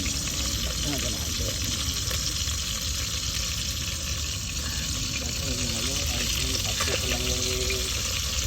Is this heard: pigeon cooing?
no